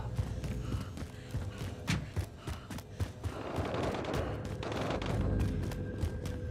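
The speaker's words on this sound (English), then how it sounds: "Shots fired." Gunfire in the video game Call of Duty: Modern Warfare, a rapid series of sharp shots and bursts over a rumbling background, fairly close and moderately loud.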